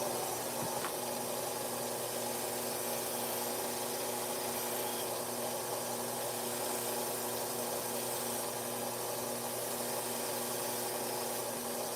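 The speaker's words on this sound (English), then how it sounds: "I got a 1700 buck tool, 1x30 belt sander here with 6-inch wheel." A 1x30 belt sander with a 6-inch wheel runs steadily, sharpening a knife on a compound-dressed belt; a constant motor hum and whine with a faint grinding hiss, unbroken and without voices for the full stretch.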